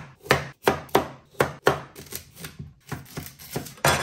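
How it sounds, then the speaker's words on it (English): Carrots being chopped with a knife on a cutting board, a close series of about a dozen crisp, sharp thuds in an uneven but steady rhythm, quickening toward the end, with no talking. "Now it's time to chop them."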